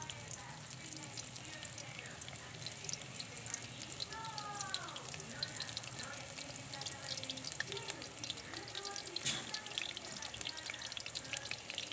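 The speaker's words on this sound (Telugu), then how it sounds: "నూనె కాగింది, మిల్ మేకర్ వేస్తున్నా." Meal maker soya chunks sizzle and crackle in hot oil for pakodi, a steady, fairly faint frying hiss throughout with a few brief clinks and small scraping sounds.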